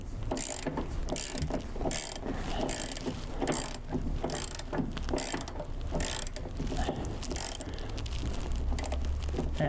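A ratchet wrench clicks repeatedly while loosening a nut on a 1958 Ford Fairlane during front-end removal, a steady busy mechanical ratcheting that runs close and continuous throughout.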